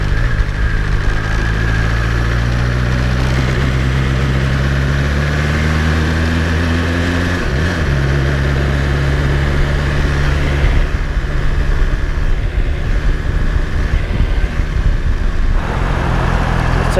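A BMW S1000XR motorcycle engine pulls hard with a steady, loud drone as the revs climb and shift, then settles into a continuous close-up road roar with wind noise.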